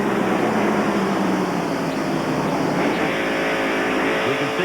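NASCAR stock cars racing at the 1993 Food City 500 make a continuous loud engine roar, a dense steady drone of several cars at speed throughout, with no break.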